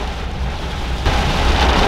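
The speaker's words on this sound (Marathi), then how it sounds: "आणि फक्त वाऱ्याचा आवाज येतोय, पाण्याचा आवाज येतोय." Steady rain and wind wash over a car on a long drive through a downpour, a dense, even roar that grows slightly louder and brighter halfway through, with no voices.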